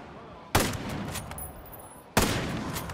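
Gunfire in Ghost Recon: Breakpoint during a windy island assault, with two loud, close blasts a second and a half apart, each trailing a rough noisy decay over a steady background hiss.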